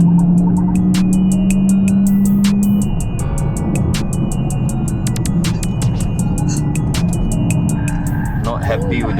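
A Smart #3 Brabus electric car drives uphill toward Genting with a steady low road rumble and hum throughout, joined by a regular ticking and electronic tones.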